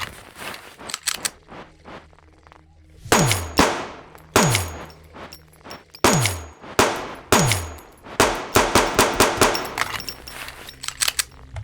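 Gunshots in the pixel-art survival tactical RPG No Such Place, a string of sharp loud reports with metallic ringing tails, spaced irregularly and then bunched into a rapid cluster near the end.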